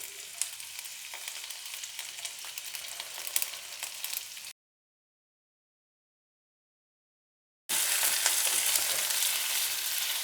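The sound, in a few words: sautéing onions, ginger and green chilies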